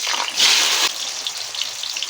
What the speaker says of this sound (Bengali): তেলের মধ্যে দিয়ে আমরা ভালো করে ভেজে নেব।